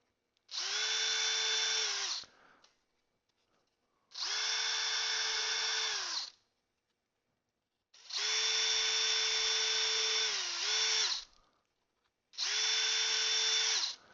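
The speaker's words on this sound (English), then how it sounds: "to drill a pilot hole through where our markers were" A power drill whines in four separate bursts of a second or two each, drilling pilot holes in wood, steady high-pitched motor hum with quiet pauses between, close by.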